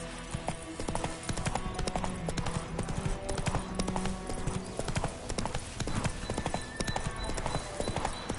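Hooves of a horse in The Witcher 3 clip-clop in a quick, steady trotting rhythm that stays close and prominent for the whole stretch, with a low rumble of movement underneath.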